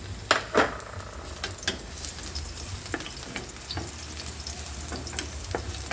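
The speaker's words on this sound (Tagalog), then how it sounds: "Sutay-sutay natin. Sutay natin yung bawang." Garlic sautés in hot oil in a pan, giving a soft steady sizzle punctuated by close, crisp scrapes and taps of a utensil stirring, a few louder clatters near the start, no voices.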